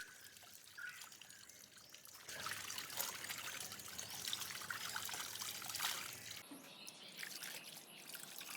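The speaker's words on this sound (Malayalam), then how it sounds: "പിന്നെ കുറച്ച് തുണിയൊക്കെ കഴുകാനായിട്ടുണ്ടായിരുന്നു" Water runs and trickles steadily while clothes are washed by hand, a soft, continuous splashing flow with faint background sounds and no talk.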